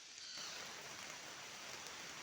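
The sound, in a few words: rain falling outdoors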